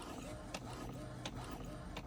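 An Epson EcoTank printer loaded with eco solvent ink runs a print job, a faint, steady mechanical whir broken by soft clicks at regular intervals of under a second.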